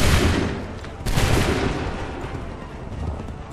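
A musket volley in Assassin's Creed III erupts as a dense, rumbling burst of gunfire, followed by a second loud crash around the first second and a long decaying roar of overlapping shots and echoes.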